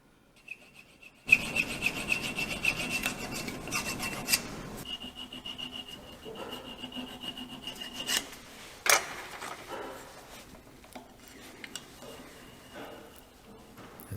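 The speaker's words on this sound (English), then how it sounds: "It's just a matter of carefully filing the slot until it fits the tang." A needle file rasps back and forth, opening a slot in a hunting knife guard to fit the tang, in close, uneven strokes with brief pauses and a few sharper knocks.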